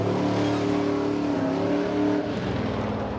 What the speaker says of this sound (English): Oh, plenty of wheel spin off the line there.